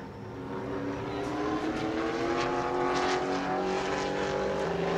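A Pro Late Model race car on a qualifying lap at New Smyrna rises into a loud, sustained engine drone. Its pitch climbs smoothly as it passes at close range, and nothing else competes with it.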